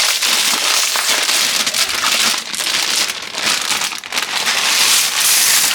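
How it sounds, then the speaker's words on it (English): A whole bag of dry egg noodles is poured into a cooking pot, giving a loud, continuous, close crinkling rattle for several seconds with brief dips, and no voices. "I'm gonna go ahead and add my egg noodles."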